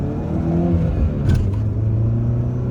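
A Peugeot 206 GTi hatchback with a 135 hp engine is heard from inside the car, its engine droning loudly and steadily as it revs under acceleration, with a brief whir partway through.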